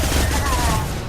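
A single gunshot in the sci-fi shooter Mass Effect 2, a loud booming blast that fills the short moment amid dense combat noise, with a voice also present.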